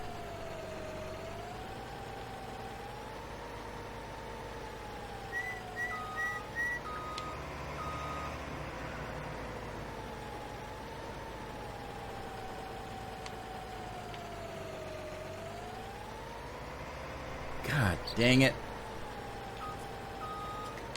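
An articulated tractor driving in Farming Simulator 19, its engine droning steadily with a wavering pitch and a few beeps, and a brief louder clatter near the end. A man mutters a short exclamation.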